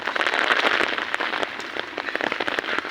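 Rain that is easing off falls under a dark sky, steady patter and drip on surfaces with scattered sharper drops, close and moderately loud throughout.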